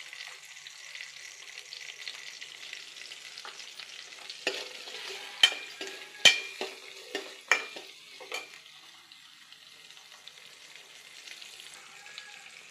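Onions frying and being stirred with asafoetida for a dried fish curry, with a steady close sizzle and a run of sharp spatula scrapes and clacks against the pan midway.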